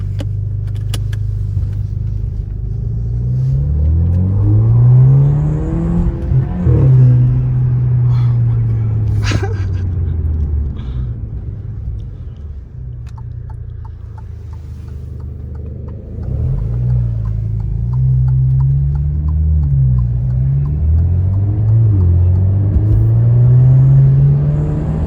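Alfa Romeo Giulia with an aftermarket Monza exhaust heard from inside while driving, a deep engine drone rising and falling through several gear pulls, with cabin rustling and a steady road rumble underneath.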